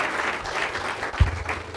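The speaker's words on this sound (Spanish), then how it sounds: "un fuerte aplauso porque están entendiendo" Congregation applause at a church sermon, a steady dense wash of many hands clapping together with a brief low thump partway through.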